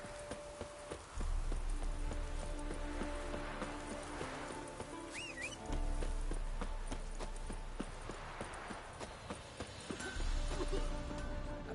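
Horse hooves clip-clop in The Witcher 3 game, a rhythmic trot of steady hoofbeats with a short neigh partway through, moderately loud over low rumbling game ambience and faint background sounds.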